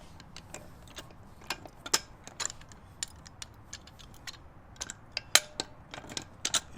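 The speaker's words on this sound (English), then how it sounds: "So what I'm going to do next is break the lugs off the car." A ratchet wrench loosening lug nuts on a 6th-gen Chevrolet Camaro wheel, heard as faint, close, irregular ticking clicks from the pawl in short sequences, without speech.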